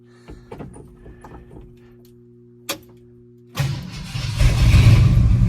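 A 1969 Ford F-250 pickup, just fitted with a new fuel pump, gives a few quiet clicks and a sharp click before the engine cranks and roars to life, settling into a loud, steady close-up idle.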